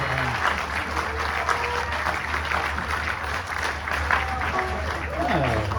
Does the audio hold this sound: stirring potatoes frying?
no